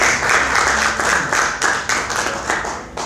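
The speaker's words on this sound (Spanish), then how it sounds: "Denle un fuerte aplauso al Señor" Church congregation at a Bible class on the book of Daniel giving a loud round of applause to the Lord, a dense burst of clapping that fades slightly toward the end.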